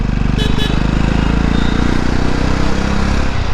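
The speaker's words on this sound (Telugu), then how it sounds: "బిఎండబ్ల్యూ బైక్ అది" A BMW S1000RR superbike engine runs with a steady, loud, low droning roar throughout, while voices talk over it.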